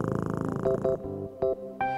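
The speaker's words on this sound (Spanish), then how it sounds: "George, ¿quieres acariciar a la gatita?" A cartoon kitten purring in a low, rumbling rhythm up close, interrupted by a few short bright tones.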